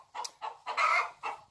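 A nervous, agitated hen clucks loudly in four sharp bursts, close by, with short pauses between calls and no talking.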